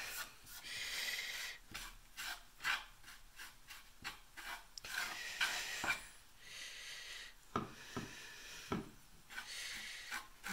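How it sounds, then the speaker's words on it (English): A small detail brush rubs paint into the nooks of a wooden purse rack, making faint, irregular scratchy strokes with short pauses between them. "I'll have to get up here in the nooks and crannies with my small detailed brush"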